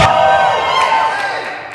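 An audience at an open stage show roars and cheers in one loud burst that slowly fades over under two seconds, a broad crowd wash with scattered shouts.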